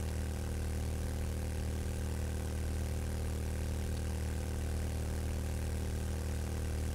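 A small motorbike engine in a video game runs in a steady, unbroken low drone with a buzzing harmonic hum, constant in level from start to finish, with no speech.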